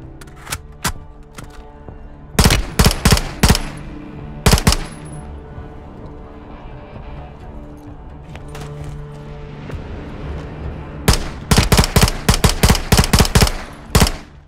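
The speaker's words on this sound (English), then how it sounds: "The recoil on this gun is insane." Heavy-recoil automatic gunfire in the MW3 campaign, sharp loud bursts of rapid shots in clusters, separated by quieter stretches of ambient battlefield tones and faint clatter.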